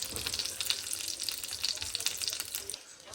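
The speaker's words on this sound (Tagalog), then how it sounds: "Tapos ko na prito yung ginawa kong lumpia kahapon yan." Lumpia spring rolls fry in a pan with a close, bright, continuous sizzle and crackle of hot oil, popping in small bursts throughout.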